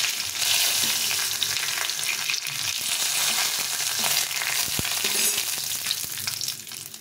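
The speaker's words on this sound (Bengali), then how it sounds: "তেলটা গরম হয়ে গেছে, শুকনো লঙ্কা, এই 5 ফোড়ন নিয়েছি, 5 ফোড়ন" Dry red chillies, panch phoron and bay leaf hit hot oil for a dal tempering, producing a loud, continuous crackling sizzle close by that eases off slightly at the very end.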